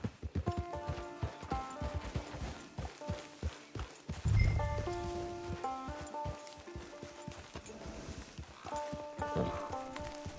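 Horse hooves clip-clopping in the video game Red Dead Redemption 2, a steady walking rhythm of close hoof knocks with a brief snort and music-like tones behind.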